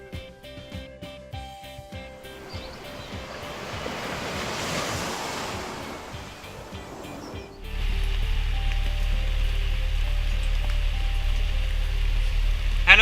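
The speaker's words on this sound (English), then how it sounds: "It's all wet, it's pouring. It's pouring like rain like crazy." Heavy rain pours onto a sailboat at sea, a steady, loud, broadband roar that swells in partway through and then holds over a low rumble of wind and water.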